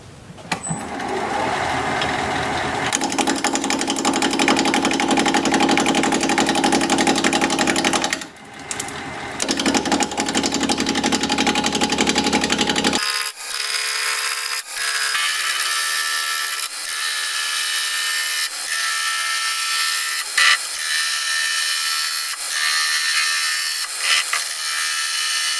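A wood lathe spins curly maple at 690 RPM while a 5/8 inch bowl gouge cuts, giving a steady loud rattling, grinding drone. About halfway through it changes to a thinner, whining tone that carries on alone.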